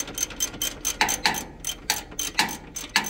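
A ratchet wrench works a bolt during maintenance and cleaning of a Vaner CO2 copper cable recycling granulator. Its crisp clicks come close up in short, uneven bursts with brief pauses between them.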